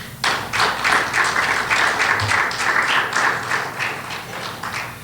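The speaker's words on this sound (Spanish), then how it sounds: "Denle un aplauso fuerte al Señor" A church congregation gives a strong round of applause to the Lord, many hands clapping in a fairly loud, dense rhythm that holds for several seconds and slowly eases.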